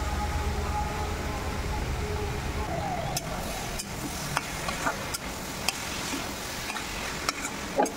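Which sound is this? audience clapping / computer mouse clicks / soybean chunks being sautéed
soybean chunks being sautéed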